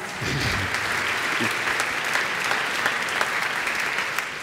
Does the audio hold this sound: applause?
yes